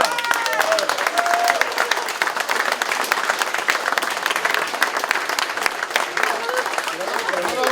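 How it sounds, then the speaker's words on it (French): Audience applause fills a hall at a 2014 event in Cesson-Sévigné: dense, steady clapping from a sizeable crowd held at an even level throughout, with a few voices faintly mixed in. "Applaudissements."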